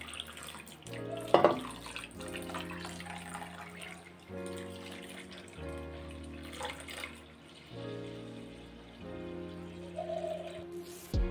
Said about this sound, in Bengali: বড় কাপে 3 কাপ পরিমাণ জল আমি এর মধ্যে দিয়ে দিচ্ছি